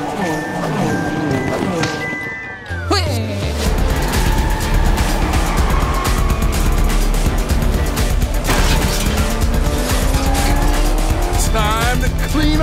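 Hot Wheels toy race cars speeding through a track course, with loud continuous engine-like roaring and tire squeals under energetic animated voices and music.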